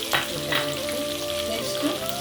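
Garlic sizzles in oil on medium heat in a pan with browned coconut for avalakki chivda. The frying crackles steadily, with a few scraping stirs of a spoon close up.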